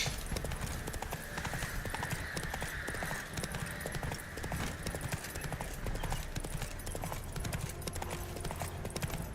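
Horse hooves clip-clop steadily on the ground in The Witcher 3 video game, a continuous rhythmic gait heard up close over dense game ambience.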